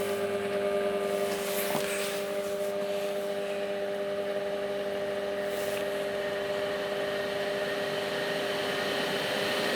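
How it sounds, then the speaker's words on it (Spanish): Two AC electric motors on a homemade tennis ball launcher run steadily with a loud, even whine and hum, sounding more like a single fan, continuous and close throughout. "Parece un ventilador más que dos motores."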